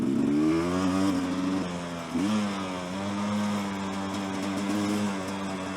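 A gas dirt bike engine revs on an open dirt track: a close, loud, buzzing engine note that climbs, drops sharply, then holds and wavers at a steady mid pitch, alone with no talk.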